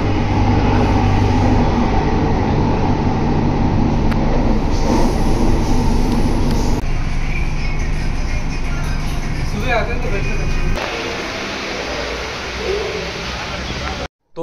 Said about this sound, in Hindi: आ गई भाई मेरी भी मेट्रो